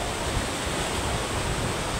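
Sea waves wash onto a Konkan beach at dusk, a steady broadband surf roar that stays loud and continuous with no speech.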